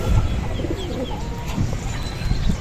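A pet racing pigeon coos softly and repeatedly close by in a loft, low throaty calls over faint background rustle.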